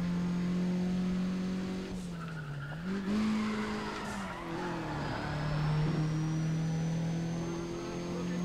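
A race car in the video game Need for Speed: ProStreet holding a loud, steady engine drone that dips and climbs through shifts, with tires squealing and skidding over the roar for several seconds.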